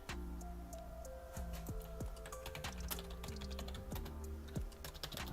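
Fast, steady typing on a computer keyboard in a quiet room, many light clicking keystrokes close to the microphone over a low continuous hum, no talking.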